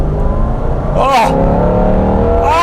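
A Lancia Delta rally car engine revs hard from inside the cabin, rising and falling in pitch, with an excited voice talking over the loud engine.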